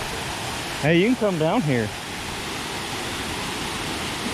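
The Meigs Creek Cascade in the Great Smoky Mountains gives off a steady, broad rush of falling water, constant and moderately loud, while a person briefly calls out over it.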